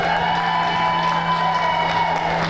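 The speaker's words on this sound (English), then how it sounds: "let's give Riley one last round of applause as she comes around" A rodeo queen competition crowd applauds and cheers in a steady, dense wash of clapping and whoops that holds evenly throughout, with a faint constant hum underneath.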